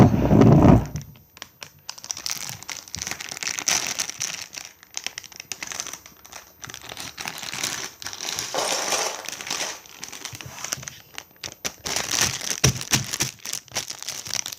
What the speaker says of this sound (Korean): 네, 한번 뜯어볼게요.